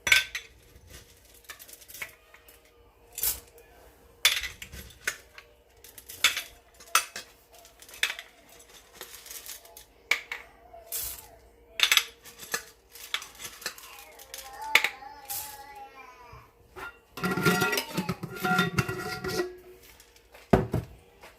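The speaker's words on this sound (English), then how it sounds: "Now we're gonna add 3/4 cups of chocolate chips to this." Chocolate chips tumble into peanut butter cookie cake batter in a gluten-free kitchen, a scattered run of small clinks and taps against a bowl with utensil knocks, moderately close, with faint voices in the background.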